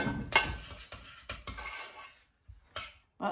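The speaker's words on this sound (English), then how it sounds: "And the stuffing is ready to go. I'm going to give it a little stir." A spoon scrapes and clinks against a pot while stirring stuffing, producing a few close metallic taps and short scraping strokes with brief pauses between them.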